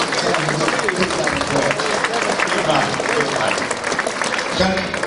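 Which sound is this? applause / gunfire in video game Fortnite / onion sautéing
applause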